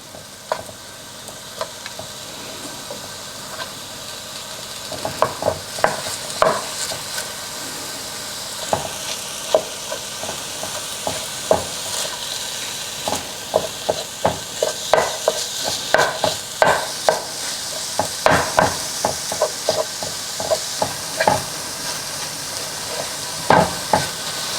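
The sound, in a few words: ground turkey frying and being stirred in a pan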